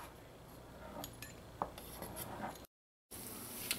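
A pizza cutter rolls across fried flour peera dough, slicing it into strips with soft scraping strokes and a few light clicks against the board, quiet and close, with a brief dropout near the end and no speech.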